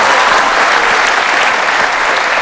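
A studio audience on an Indonesian TV talk show claps loudly for a singer, a dense, continuous wall of applause close and even throughout the short burst.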